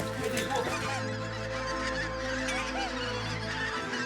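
Wild geese fly in toward a pond near Hondschoote, giving repeated nasal honks that carry across the open air, with a quiet murmur of voices now and then.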